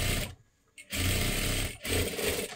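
A sewing machine runs in two fast, loud bursts of stitching a double seam on a 38-size princess blouse, with a short silent pause between the runs and a brief dip before the last one.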